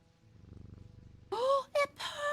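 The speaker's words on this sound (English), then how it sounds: "Oh, it purrs." A cat in the video game Strange Antiquities purrs in a soft, quick rhythmic pulse, then a voice starts speaking over the last second.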